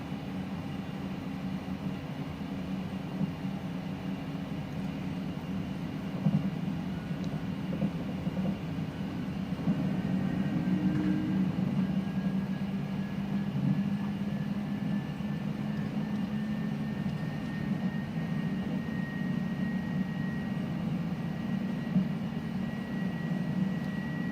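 A simulated iniBuilds A300 airliner rolls down the runway for takeoff, producing a steady engine roar and low rumble that swells gradually, with a thin rising whine joining partway through.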